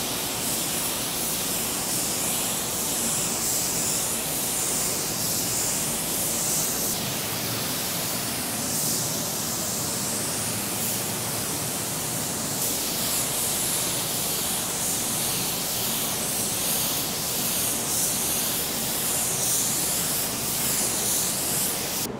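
A spray gun laying blending additive over sealer on a car panel, giving off a continuous loud hiss with brief pauses between passes.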